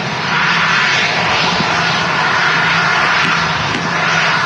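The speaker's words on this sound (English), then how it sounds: "Aer Lingus A321neo now rolling as well." An Aer Lingus Airbus A321neo jet rolling down the runway at Manchester Airport, a steady loud engine roar heard from a distance.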